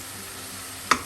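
Spinach cooking in a pan as a palak thoran stir fry gives a quiet steady sizzle. Near the end, one sharp scrape of a spoon cuts through it.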